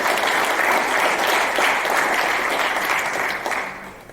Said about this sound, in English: both of them deserve a very good round of applause.